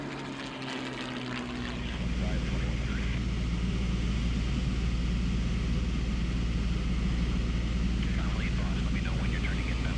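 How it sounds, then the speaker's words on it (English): A P-38 Lightning propeller fighter plane drones past loudly at an air show, a steady low engine roar rising after a quiet start and holding throughout. "And once again, the P-38 passing in review."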